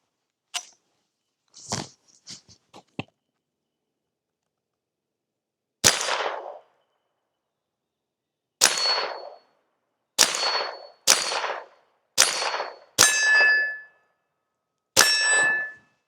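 A .22 long rifle fires at a homemade steel gong target: sharp cracks each followed by a bright ringing clang, eight shots spaced irregularly, the later ones closer together with longer metallic ring, preceded by a few faint clicks.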